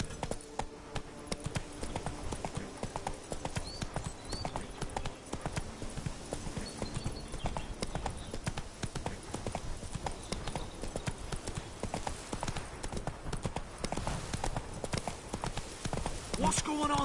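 The horse Roach gallops in The Witcher 3 with continuous rapid hoofbeats that run steadily throughout at moderate loudness, while talk is heard over them.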